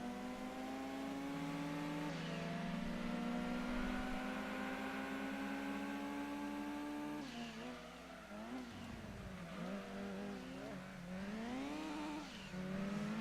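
A race car engine in Gran Turismo 2 drones loudly and steadily, its pitch climbing through gears with a shift dip partway, then revving up and down again, continuous with no talk.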